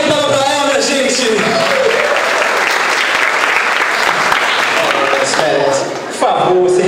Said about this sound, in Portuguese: Uma salva de palmas pra ela, minha gente!